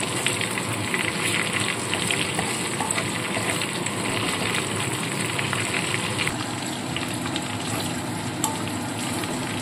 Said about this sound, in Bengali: এবার প্রথমে আমি এখানে মটনের চর্বিটা দিয়ে দেবো। চর্বিটা আগে দিলে কি হয়, একটু তেল তেল মতো ছাড়তে থাকে।